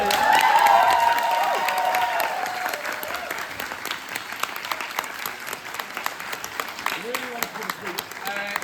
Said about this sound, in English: Can we get a round of applause for our Jan Corla, please?